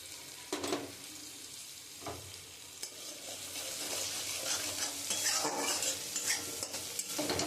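Eggs fry with spice paste in a pan as a spoon stirs, giving a steady sizzle broken by repeated scraping and clinking strokes, close and alone with no talk.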